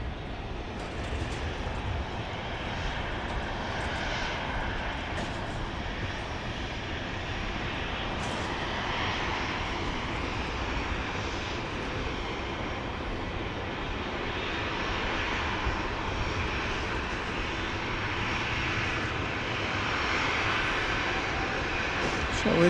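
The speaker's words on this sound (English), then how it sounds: "This appears to be Flight 52, arriving from Houston Hobby Airport" A passenger airplane arriving at Dallas Love Field at night gives off a steady, loud engine roar that holds through the whole stretch, swelling slightly toward the end, while a voice talks over it.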